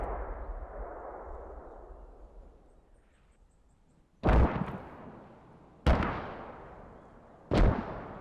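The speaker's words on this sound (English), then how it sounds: "Mortars landing at one of the compounds that INS are defending." Mortar shells landing on a defended compound in the military shooter Squad: three sharp, loud explosions a second or two apart, each with a long rumbling decay, after a quiet lull of low ambient noise.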